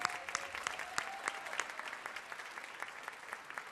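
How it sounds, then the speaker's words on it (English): Audience applause at a 25th anniversary chapter celebration in Washington, DC, a steady wash of many hands clapping with sharp individual claps throughout, moderately close and without speech. "Even after all these years, let's give Marcella a round of applause."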